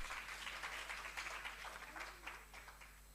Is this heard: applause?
yes